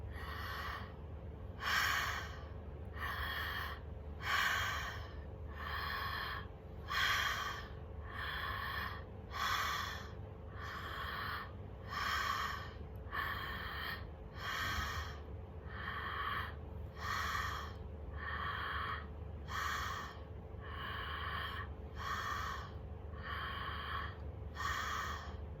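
Rhythmic rounds of forceful breaths in a shamanic breathing practice, about fifteen sharp, airy puffs at a steady pace, each a short burst over a low steady hum, close and moderately loud with no talking.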